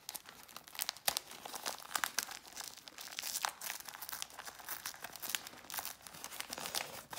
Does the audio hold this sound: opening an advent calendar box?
yes